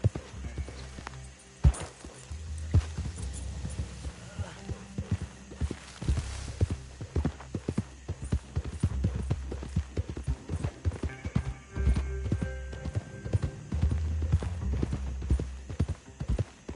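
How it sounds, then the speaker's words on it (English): Horse hooves clip-clop steadily through Red Dead Redemption 2 on PS4, a close, uneven rhythm of hoofbeats with occasional louder strikes and a faint background hum, no talk. "Meet the horse."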